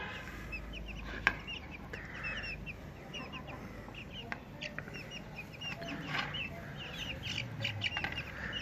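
Ispenç chicks cluck and peep softly in the background, scattered short calls over a low steady outdoor hiss.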